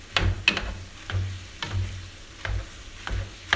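Ground taco meat is stirred and crumbled in a hot pan. Soft sizzling runs under a steady rhythm of spoon scrapes and knocks about every half second, close and without talk.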